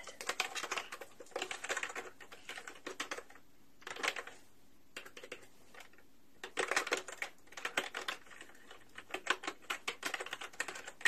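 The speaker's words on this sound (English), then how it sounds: "Let me just type a couple things in my computer here" Bursts of rapid clicking on a computer keyboard, near and fairly quiet, in short runs separated by brief pauses, with no talking over it.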